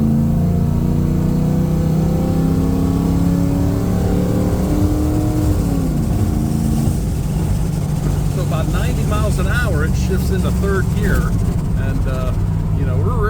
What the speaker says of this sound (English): I'll slow down to about 45 miles an hour right here, and then just put it to the floor.